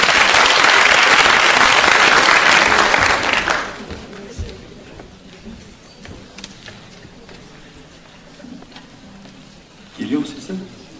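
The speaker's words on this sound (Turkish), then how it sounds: "Hüseyin Öğütöz, alkışlarınızla sahneye davet ediyorum." Loud applause from a seminar audience welcoming a speaker to the stage, dense clapping for about three and a half seconds that drops away to quiet room noise and faint shuffling.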